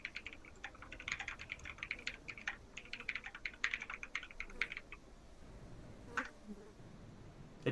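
A voice imitates the clicking of a Thri-kreen: rapid, irregular dry clicks in a quick burst lasting several seconds, fairly faint and close, then a couple of isolated clicks.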